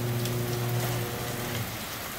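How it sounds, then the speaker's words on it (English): Steady rain falls outdoors and makes a dense, even hiss on surfaces. A low machine hum sits underneath it, and no one speaks. "Let's check this rain out, eh?"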